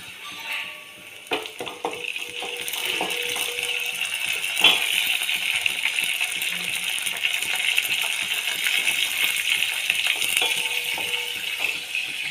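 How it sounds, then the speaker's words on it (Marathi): Curry leaves dropped into a pan of softened onions, giving a steady hissing sizzle throughout with a few light metallic clinks and taps of utensils against the pan; no talking. "याच्यामध्ये आता मी टाकून घेते थोडासा कढीपत्ता"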